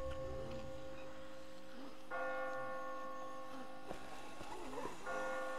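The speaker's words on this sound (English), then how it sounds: "I just got spooked by those bells" Bells ring out in The Walking Dead game: sustained, overlapping metallic tones that swell, with a fresh strike about two seconds in and another near the end, over low background noise.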